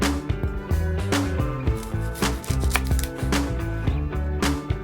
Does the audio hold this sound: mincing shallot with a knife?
yes